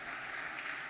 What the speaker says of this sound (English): one more Rumblers round of applause for the mayors of Louisville and Lexington, Kentucky